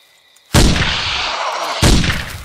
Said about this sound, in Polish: Na ten drugi niecelny strzał.